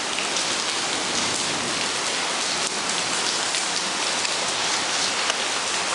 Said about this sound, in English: And here we are watching the rain.